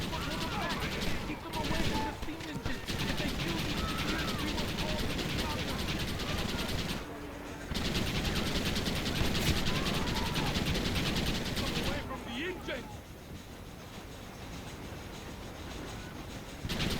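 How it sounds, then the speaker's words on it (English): Mounted Gatling gun in the Red Dead Redemption video game, firing in dense, continuous rapid bursts with a short break, while someone talks over the gunfire throughout. "You can get off the Gatling gun at any point if you don't want to use it."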